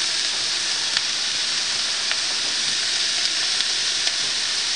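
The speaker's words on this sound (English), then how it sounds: "You want that pan to be nice and hot because you're going to get a good sear on the meat that way." Lamb searing in a very hot pan, a steady dense hiss of sizzling fat that stays even and loud throughout, with faint occasional crackles and no talking.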